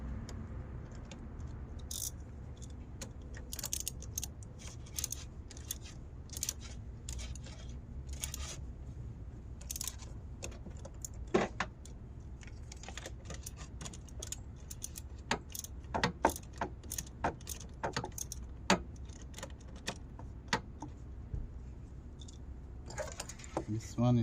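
A wrench loosening the 10mm terminal nuts on a 2012 Acura MDX car battery, giving faint scattered metallic clicks and ratcheting ticks, with someone talking quietly underneath.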